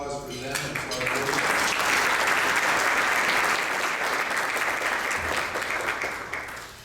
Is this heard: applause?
yes